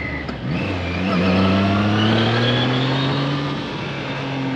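A throaty Triumph Trident 660 motorcycle engine revs up and holds a rising, rumbling exhaust note, then eases slightly, loud and fairly close with no talking.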